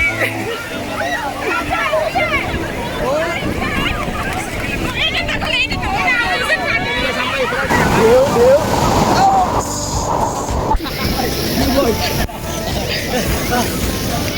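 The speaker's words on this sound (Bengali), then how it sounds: "বড় বড় একটা ঢেউ আসছে দেখা যাক ওই তো বড় একটা ঢেউ" A crowd of people aboard a boat on the sea as big waves roll in; a constant hubbub of chatter and excited voices sits over the rushing wash of water and gusting wind noise throughout.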